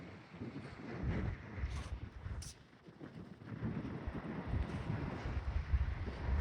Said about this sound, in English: that wind is cold out here